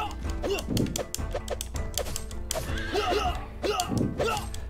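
A horse whinnies in the retro beat 'em up game Clan N, its short neighing calls rising among rapid thuds and hit effects of game combat, loud and repeated.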